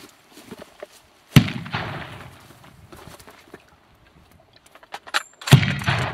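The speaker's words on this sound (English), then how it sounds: "I'm gonna fire one round, they're gonna fire two artillery rounds, and then we go." Two sharp, loud blank shots boom out seconds apart at a World War I Battle of Cantigny reenactment on Squadron Field in Parsons, Kansas, with quieter rustling and faint activity between them.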